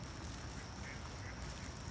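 Ducks quacking outdoors on a morning walk, a steady, fairly faint stretch of calls over constant background noise.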